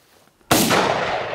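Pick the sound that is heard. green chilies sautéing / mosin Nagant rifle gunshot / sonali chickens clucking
mosin Nagant rifle gunshot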